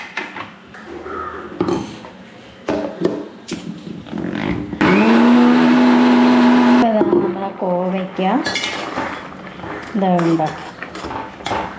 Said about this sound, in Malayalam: ഇതൊന്ന് അരച്ചെടുക്കാം